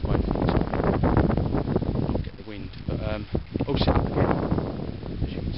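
Strong wind buffets the microphone at a lakeside carp-fishing swim, with gusty rumbling roar that dips briefly before surging again, mixed with talk throughout.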